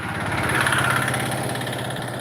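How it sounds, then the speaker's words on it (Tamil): A small three-wheeler engine putters loudly nearby with a rapid, rattling throb, holding steady as it goes by. "ஆட்டோ கூட போகுது"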